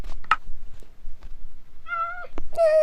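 Several short cat meows in a row from a Minecraft cat, clear and close, with brief pauses between them and a longer, drawn-out meow at the end.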